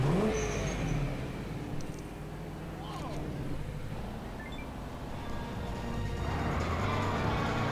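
A car revving and driving in the Lego City Undercover video game, an engine drone rising and falling with game sound effects, and a voice talking over it.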